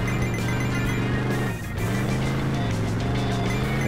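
A car engine in a children's racing cartoon game drones loudly and steadily under music-like tones, dipping briefly near the middle before surging back.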